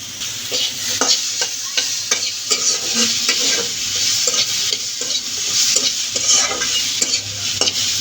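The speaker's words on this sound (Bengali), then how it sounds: "তো এটা কড়াইতে দিয়ে দিলাম" Chopped tomato, onion, green chili and garlic sizzle in a wok. A spatula scrapes and stirs in a steady rhythm throughout.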